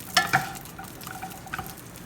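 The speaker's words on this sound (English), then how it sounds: "so just make a whatever will fit in your pan. And just stir them around." Food stirred around in a frying pan, with a couple of sharp scraping clinks early on and a lighter scrape later over a soft background sizzle, close and brief.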